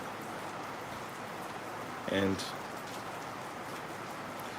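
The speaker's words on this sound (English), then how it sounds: "It's raining here" Steady rain falls outdoors as a soft, even hiss throughout, and a voice briefly speaks a single word over it midway.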